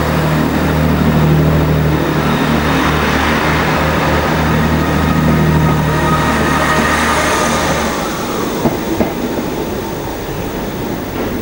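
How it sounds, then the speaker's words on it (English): A First Great Western train pulls away with a heavy, close rumble and rolling rail noise. The low drone drops off partway through, leaving lighter clattering behind. "The first Great Western just pulling away."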